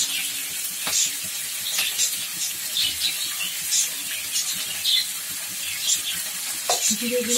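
Tomato and cumin powder going into a frying pan, a continuous hissing sizzle with repeated light scrapes and crackles, close and moderately loud, no talking.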